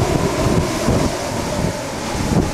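Strong inflow wind rushing toward a tornado during a northern Kansas outbreak, a continuous roaring blast buffeting the microphone, loud and close with no break.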